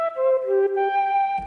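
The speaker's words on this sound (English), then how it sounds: "I've loaded up an instance of the Mellotron V from Arturia with a flute patch," Arturia Mellotron V software instrument with a flute patch plays a short, breathy melodic phrase of a few sustained notes, close and alone, with a soft low thump at the end.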